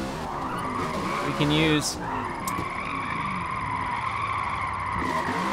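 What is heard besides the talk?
car tires skidding while drifting in Forza Motorsport video game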